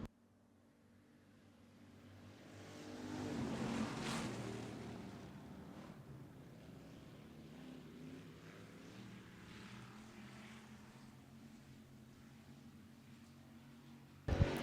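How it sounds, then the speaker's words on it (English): Hobby stock race cars at Wagner Speedway rumble off the start of a heat race, their engine roar swelling as the pack passes nearby and then settling into a steady, more distant drone. "this is heat race number 3 for the hobby stock division here at Wagner Speedway"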